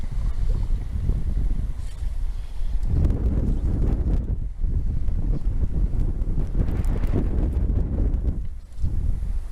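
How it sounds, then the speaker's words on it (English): Strong gusty wind buffets the microphone while trout fishing from a small boat, a loud low roar that surges and briefly eases, with faint water sounds underneath and no talk. "at some point in time, you just want to stop battling the wind."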